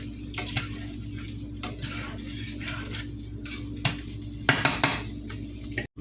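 A spoon stirs broth thickened with cornstarch in a pot for gravy, scraping and clinking against the metal sides in irregular strokes, with a low hum underneath and no speech.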